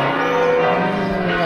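Church bells ring out at Santiago de Compostela as pilgrims arrive, a loud, sustained peal of overlapping tolls that carries steadily, with no talk over it.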